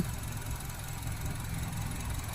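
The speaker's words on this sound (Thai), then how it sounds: "เครื่องยนต์ครับ iVTEC 2000cc ครับ ฟังเสียงได้เลยนะครับ" A 2008 third-generation Honda CR-V 2.0 i-VTEC 4WD petrol engine idles steadily and close by, a continuous low hum with a faint mechanical rattle and no voices.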